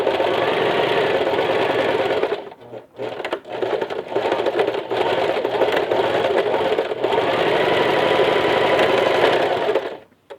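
A domestic sewing machine runs in long steady bursts while stitching a seam on a necessaire with a wolf-mouth opening, stopping briefly and restarting for backstitches; loud and close, with no talk.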